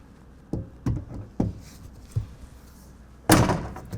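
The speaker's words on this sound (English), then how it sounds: "drop the hoops of the swing case down onto the hinges and latch it in place" A RealTruck SwingCase toolbox in a 2025 Ford F-150 bed is dropped onto its hinges and latched: four solid, close knocks at an uneven pace, then one much louder metallic slam as it locks.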